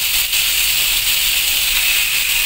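Chicken wings sizzling in a hot pan with garlic, a steady, close hiss of frying oil that holds evenly throughout with no voices.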